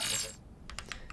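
Sci-fi sniper rifle reload sweetener layers: a brief hiss fades out, followed by a few quick light metallic clicks, close and quiet.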